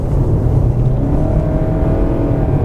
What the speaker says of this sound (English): you can hear the petrol engine completely kick in there with the support of the electric engine